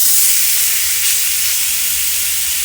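Pork tenderloin sears in hot oil in a skillet, giving a loud, steady, broadband sizzle and hiss that holds unbroken from start to finish with no voices.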